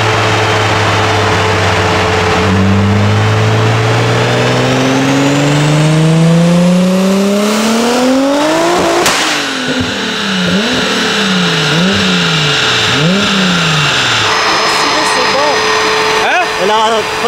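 A Renault R28 Turbo on a dyno revs up steeply as its wheels slip on the rollers, then the engine note swings up and down in loud, wavering surges; people talk nearby.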